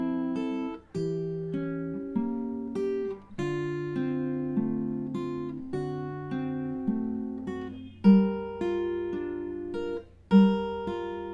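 An acoustic guitar plays the bridge of a song slowly and cleanly. Single notes and small chords ring out one after another, each decaying before the next is plucked, with no voices.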